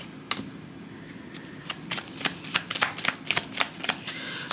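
Tarot cards are riffled and shuffled close to the mic, with a series of crisp, rapid card snaps that grow more frequent and louder in the second half, and no talking over them.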